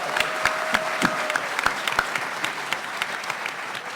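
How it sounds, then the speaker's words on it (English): Audience at a Star Wars books panel at New York Comic Con 2019 applauds a panelist, steady crowd clapping with sharp individual claps standing out, moderately loud and continuous. "one more round of applause for Kevin"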